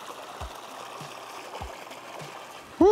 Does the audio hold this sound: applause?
no